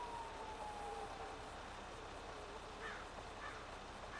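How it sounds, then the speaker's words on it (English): Faint, distant emergency vehicle siren at night outdoors, a thin wailing tone drifting under steady background noise, with brief higher chirps later and no talking. "I hear more sirens."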